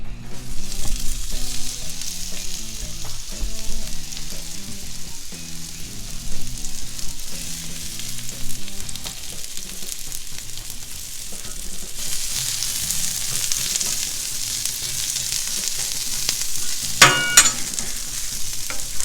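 Onions sizzle and crackle steadily on a hot grill for a long stretch, with occasional scraping and stirring sounds and no talking.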